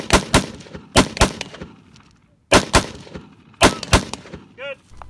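Gunshots fired at a steel spinner target during a 2-gun action match, loud sharp reports in quick pairs and triplets separated by brief pauses, with a faint metallic ring after the last shots.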